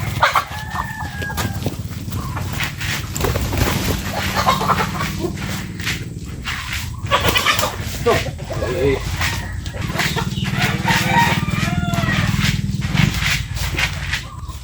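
Several chickens cluck steadily and a rooster crows, close and loud, with a voice talking intermittently over the flock.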